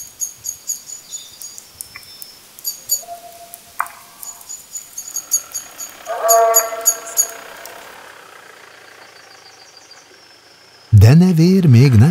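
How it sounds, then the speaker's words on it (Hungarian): Crickets and grasshoppers chirp in an oak tree, recorded in the ultrasonic range, giving a rhythmic series of pulsing trills and buzzing calls that fade, followed by a loud burst near the end. "Főként madarakat, tücsköket és szöcskéket hallani."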